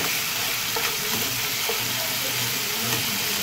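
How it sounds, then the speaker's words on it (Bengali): Water goes into a spice paste (masala) frying in oil for a doi koi curry, producing a loud, continuous hiss and bubbling sizzle close by, with a few faint clinks and no speech. "আমি মশলাতে জল দিয়ে দিচ্ছি"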